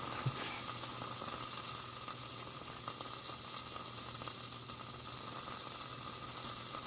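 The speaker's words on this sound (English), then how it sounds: "so the sizzling is coming to a stop" Steady, constant sizzling hiss from pork dumplings frying in a hot pan, close and fairly quiet, with no talking.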